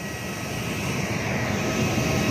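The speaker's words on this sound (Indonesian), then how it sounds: "Ada pesawat baru datang, Garuda Indonesia" A Garuda Indonesia airliner arriving at the airport, heard as a steady, continuous jet engine roar with broadband rumble, fairly loud and unbroken throughout, with no voices.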